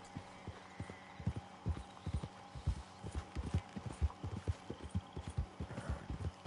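Horse hooves clip-clop in Red Dead Redemption 2, a steady close series of hoofbeats on ground with a low game hum beneath and no talk over them.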